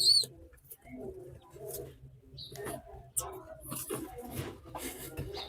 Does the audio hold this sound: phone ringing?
no